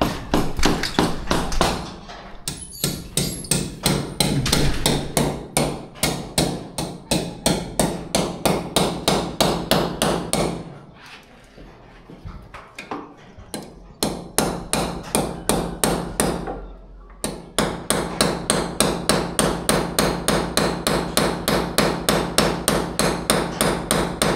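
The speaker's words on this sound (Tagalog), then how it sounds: "Tingnan natin ang pinupukpok ni Kuya" A man pounds with a hammer inside a building, delivering long runs of rapid, sharp, loud blows, broken by a couple of brief pauses before the steady striking resumes.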